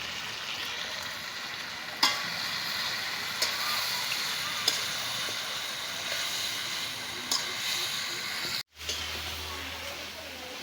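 Goat meat stirred and sautéed in a pot over the fire, a continuous broad sizzle and hiss with occasional clanks of the spoon against the metal rim, briefly cut off near the end.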